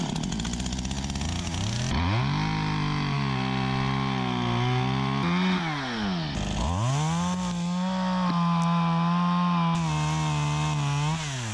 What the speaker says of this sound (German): säge einen kleinen Fallkerb hinein